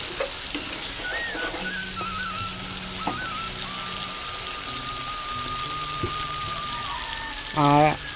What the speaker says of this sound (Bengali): চিনিটা দিয়ে আমি ভালো করে নেড়ে নেব